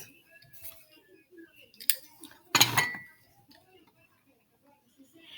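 A decorating tool cuts through crostata pastry dough in a quiet kitchen, giving a few soft scraping strokes and then one louder, crisp cut.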